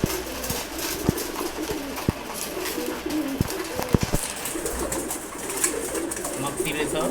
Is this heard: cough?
no